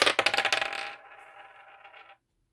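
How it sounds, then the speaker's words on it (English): Zodiac dice are rolled several times, giving a quick run of sharp clattering clicks for about a second, then a lighter rattling ring as they settle and stop. Close and fairly quiet, with no voices. "And then I'll roll the zodiac dice a few times."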